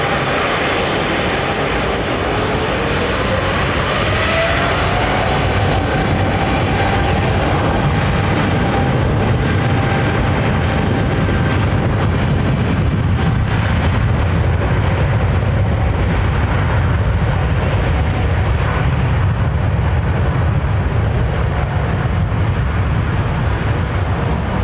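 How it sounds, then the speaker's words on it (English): A United Boeing 777-200 with GE engines at Heathrow, a loud, steady jet roar that fills the whole stretch, with a slowly gliding engine whine and no voices. "nice United 777-200. Still sporting the GEs."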